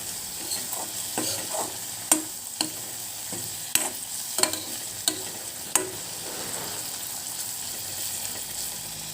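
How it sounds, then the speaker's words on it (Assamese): Spices for a bitter gourd dish are stirred in a frying pan over a continuous sizzle, with sharp spoon-on-pan scrapes and clacks landing every second or so. "এতিয়া ভালদৰে লৰাই দিছোঁ।"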